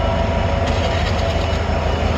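A train at a railway crossing in Porbandar gives a loud, steady rumble with a regular rhythmic clatter from the wheels, sounding close and continuous.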